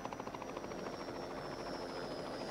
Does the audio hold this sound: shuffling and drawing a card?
no